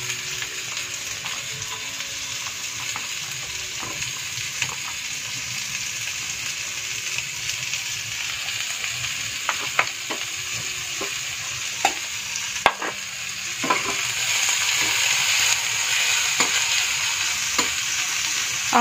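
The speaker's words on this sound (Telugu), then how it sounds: "ఫస్ట్ ఆయిల్ హీట్ అయిన వెంటనే చక్కగా మనం ఆనియన్స్ అలాగే పచ్చిమిర్చి రెండింటిని ఫ్రై చేసేసుకుందాం" Onions and green chillies fry in hot oil for a paneer and meal-maker curry, a steady close sizzle with scattered clinks and scrapes of stirring, with no voices.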